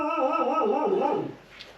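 A dog shut inside a house barks and whines in a rapid, continuous string of high yelps, close and fairly loud, trailing off toward the end.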